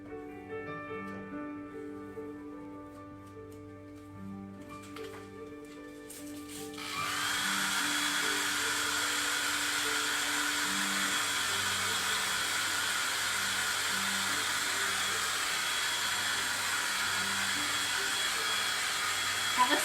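A hair dryer switches on partway through and runs as a loud, steady whoosh over quiet background music while drying a woven plaid tray craft.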